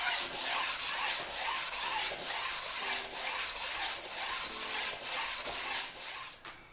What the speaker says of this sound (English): place the stone down on the blades and simply push the stone forward and back over and over again